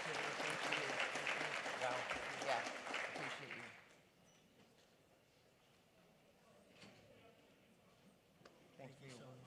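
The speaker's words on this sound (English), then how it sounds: "Let's give him a round of applause." Room applause at a Los Angeles County Board of Supervisors meeting following the Pledge of Allegiance, fairly loud for about four seconds, then fading to quiet room noise with a few scattered sounds.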